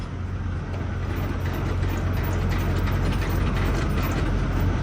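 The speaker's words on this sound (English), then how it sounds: "I'm just going to go ahead and lower the landing gear almost to the ground" A trailer's landing gear being cranked down, a steady, loud, continuous mechanical grinding with a low rumble underneath that holds for the whole stretch.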